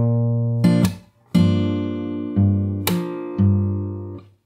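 A fingerstyle acoustic guitar plays a song's chorus, with plucked bass notes, chords and several percussive slaps in a steady rhythm, close and clear with no voices.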